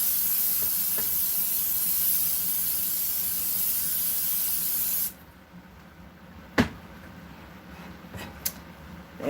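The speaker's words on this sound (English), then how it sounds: "I've just sprayed that really good. I just don't want my pasta to end up sticking" Cooking oil spray hisses steadily onto a pan for about five seconds while stuffed manicotti is being prepared, then stops, leaving quiet kitchen sounds with a few sharp knocks.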